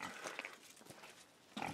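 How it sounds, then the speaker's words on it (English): A pig on a farm grunts and snuffles in short, faint bursts near the barn, with scattered outdoor noise in between. "let's get us a shot of the pig"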